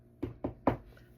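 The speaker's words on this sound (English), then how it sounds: "I'm gonna knock on wood" Three close knocks on wood land in quick succession, evenly spaced with the last slightly louder, each a dull hollow thud, with no talking.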